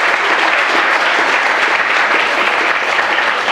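A large audience claps loudly and continuously after an Ignite Barrie 2016 presentation, a thick, even wash of applause with no speech on top.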